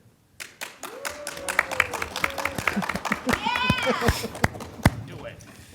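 Scattered audience clapping at a live Star Wars podcast panel at Phoenix Fan Fusion, sharp individual claps building into light applause with voices talking over it.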